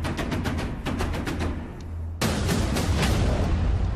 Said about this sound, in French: Les attaquants s'exposaient aux tirs des canons